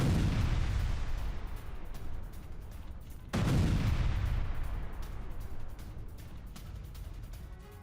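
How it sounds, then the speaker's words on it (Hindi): Heavy bombardment of Kyiv, missile and drone attacks, rings out as two loud, deep booming blasts a few seconds apart, each rolling into a long fading rumble with crackling echoes at a distance. "देखिए, धुआंधार बमबारी, कीव में ब्लैकआउट"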